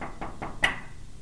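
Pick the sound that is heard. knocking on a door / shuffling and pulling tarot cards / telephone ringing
knocking on a door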